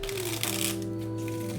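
A deck of tarot cards shuffled up close, quick rattling, clicking riffles in a short burst over soft ongoing background music.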